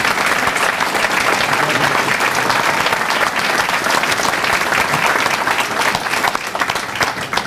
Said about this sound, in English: Let's have a round of applause for our individual inductees.